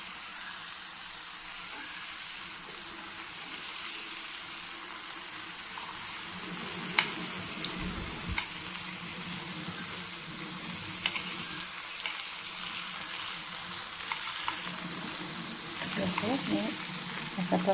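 Chicken pieces fry in a pan and get flipped to the other side, a steady, moderate sizzle running throughout with occasional clinks and scraping of a utensil, and a voice talking over part of it.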